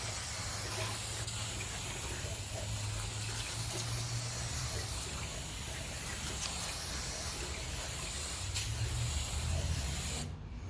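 Continuous hissing spray of cleaner onto a Ford BF XR6 engine block, steady and close for about ten seconds, with a low hum beneath and a brief cutoff at the end.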